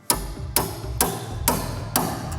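A hammer drives a steel piano string tuning pin into the pinblock during restringing, five sharp, evenly spaced metallic strikes, close and loud, with brief ringing after each.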